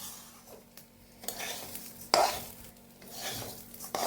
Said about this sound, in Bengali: কিছুক্ষণ এইভাবে নেড়ে চেড়ে নেবো,